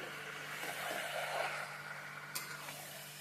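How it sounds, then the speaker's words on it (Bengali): Chicken pieces sautéing in a pan over a medium flame for Dak Bungalow chicken curry, a soft steady sizzle with faint stirring scrapes and one brief clink, fairly quiet and without speech. "মাংসটা ভালো করে আমি কষিয়ে নিচ্ছি মিডিয়াম ফ্লেমে রেখে ভালো করে আপনারা কষিয়ে নেবেন"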